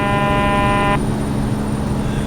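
A loud, steady Ford LTL9000 truck horn in American Truck Simulator blares for about a second over a constant engine rumble, then cuts off while the engine drone continues.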